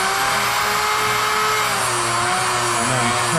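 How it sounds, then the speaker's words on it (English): A small tungsten electrode sharpener with a little grinding wheel runs at steady speed, giving a loud, continuous high-pitched motor whine with a constant tone throughout. "once we have this tightened down, we simply just start the sharpener"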